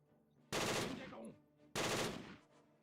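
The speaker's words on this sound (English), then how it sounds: "the T-34 is spewing out some bullets" Machine gun fire from a T-34 tank in the Close Combat 3 war game, two loud sustained bursts of rapid shots, each about a second long and separated by a short pause, with no talking.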